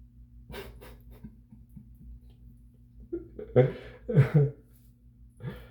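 A dog pants in short bursts inside a car on an open road, soft breaths building into louder, quick huffs over a low engine hum, with a voice faint in places.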